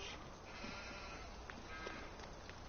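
Sheep bleat faintly in a Farming Simulator 19 pen, a couple of soft calls set against a steady wash of game ambience.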